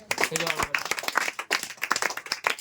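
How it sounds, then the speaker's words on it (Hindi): A classroom of young children claps together in a short burst of quick, uneven handclaps, with a voice speaking over it. "एक बार जोरदार तालियां।"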